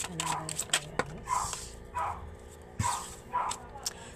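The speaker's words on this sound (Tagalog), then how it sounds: "Aso po yan ng kapitbahay namin." A neighbour's dog barking repeatedly in the background, several short sharp yips spaced about half a second apart, heard somewhat distant beneath a person talking nearby.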